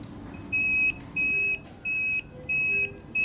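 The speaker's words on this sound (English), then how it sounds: "When there's a breakdown, an alarm sounds" A transmitter fault alarm at a BBC engineering station in Plymouth beeps five times in a steady rhythm, each beep a clear electronic tone of roughly half a second with short gaps, loud and alone over faint room hum.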